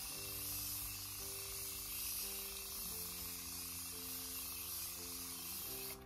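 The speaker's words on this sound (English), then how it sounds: "This is just a wonderful sprayer." A facial mist setting spray sprayer in a makeup routine gives a steady, continuous hiss of fine mist for about six seconds, close and fairly loud, with a faint tonal hum underneath.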